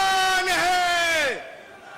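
Crowd at a political rally in Madhya Pradesh with the chief minister present loudly chants and cheers a slogan together, a sustained massed vocal shout that swells then drops off abruptly after about a second.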